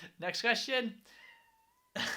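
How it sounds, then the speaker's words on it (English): A cat meows in the background amid talk, a couple of brief faint mews between a man's words. "Don't know if you can hear the cat in the background."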